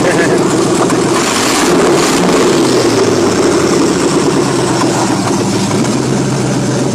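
A 1952 two-door hardtop's engine runs loud and close with a steady rumbling idle and a slight misfire, while people talk over it.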